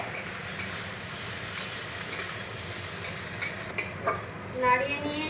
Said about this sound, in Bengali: নাড়িয়ে নিয়েছি সোয়া সস দিয়ে।